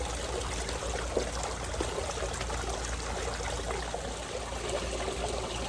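Water runs steadily through a gold sluice at 2,000 gallons per hour on an 8-degree pitch, a continuous trickling, splashing flow close by with no talk.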